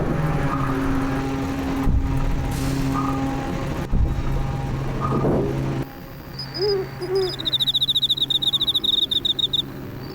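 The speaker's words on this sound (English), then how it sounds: "the PS2 version theme of Robo-Kai oddly sounds like this." Robo-Kai's theme from the PS2 version of Guilty Gear XX Accent Core Plus plays as a strange, ambient soundscape: steady droning tones with hoot-like notes, then a run of rapid, high chirping beeps near the end.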